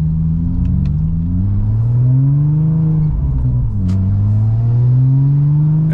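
A Porsche 996 Turbo engine at close range, loud and steady as it idles unevenly with a fault, its pitch rising and falling through two slow revs with no talking.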